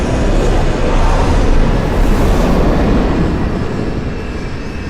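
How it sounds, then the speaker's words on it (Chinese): A cargo airplane lands at an airport with a loud, continuous engine roar that stays close and heavy throughout, easing off only slightly near the end, with no talk. "这不是咱们陆航的飞机吗？"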